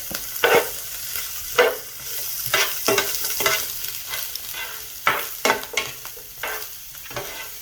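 Broccoli in a hot skillet, a continuous sizzle broken by repeated stirring scrapes that come every second or so, close and fairly loud, with no voices.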